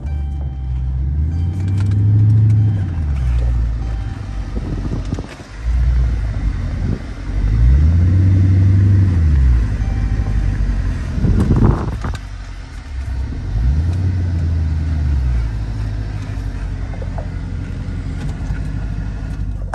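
Dodge Charger SRT engine while driving, loud and close, with deep throaty rumbles that swell and fall in three repeated rev cycles, plus a brief sharp clunk midway and no speech.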